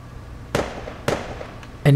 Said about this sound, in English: But things quickly escalate to a Roman candle fight.